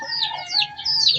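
Chickens clucking close by in a Filipino backyard, a short burst of repeated nasal calls and chirps with no talking.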